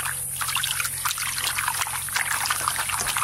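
Water trickling and splashing steadily close by while big bagha aar fish are rinsed for a curry, a continuous bright dribble with small spatters.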